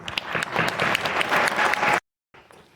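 Warm audience applause welcoming student speakers at a pinning ceremony, brisk clapping for about two seconds, then a sudden cut to silence before faint clapping resumes briefly.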